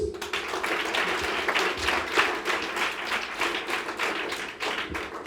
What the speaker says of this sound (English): So let's all clap for ourselves.